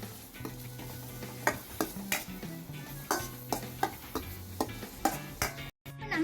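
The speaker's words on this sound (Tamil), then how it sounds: "இப்போ எல்லாத்தையும் நல்லா மிக்ஸ் பண்ணிக்கலாம்." Spices stirred into a sizzling pan while making a vegetable burger mix, with a spoon scraping and tapping the pan at a steady rhythm over a soft frying hiss, close by.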